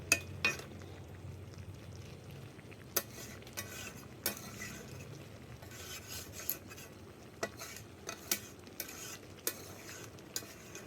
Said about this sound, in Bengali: এবার আমি ঢেলে নেব।